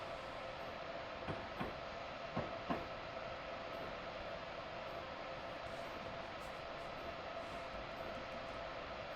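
A steady rumble and hiss of a moving Amtrak Vermonter train pulling into New Rochelle station, with a few faint clicks and rattles of wheels on track, fairly distant and even throughout.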